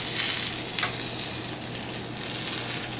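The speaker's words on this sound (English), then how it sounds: "We're just going to let it cook here until, I think it's about cooked." A grilled cheese sandwich sizzling in butter in a frying pan, a constant bright crackling fry with small pops, close and loud throughout with no talking.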